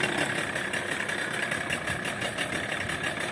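A new speed engine on a fishing boat warms up at sea, idling with a loud, steady, rattling drone that stays close and unbroken throughout.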